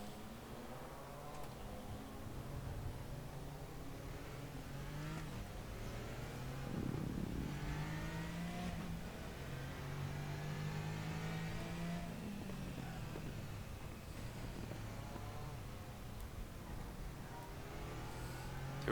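A Porsche race car engine in the racing sim RaceRoom revs and climbs through the gears, a steady loud drone with rising and falling pitch sweeps, heard alone without talk.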